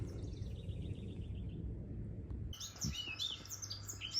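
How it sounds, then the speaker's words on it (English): Birds chirp and tweet in short bursts over a low outdoor rumble, the calls growing busier and closer toward the end. "Birds are just having a ball today."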